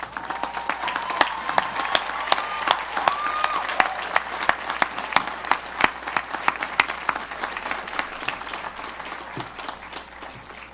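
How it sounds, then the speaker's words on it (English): Graduates and crowd applauding at a university undergraduate commencement ceremony, dense sustained clapping with sharp individual claps standing out throughout. "give them a well-deserved round of applause"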